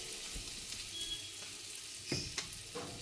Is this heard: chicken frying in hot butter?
yes